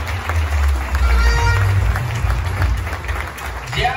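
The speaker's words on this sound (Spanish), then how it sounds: "Yo quiero que le demos un fuerte aplauso" An audience at a public event in Maimón applauds loudly and steadily, with cheering voices and crowd noise mixed into the clapping.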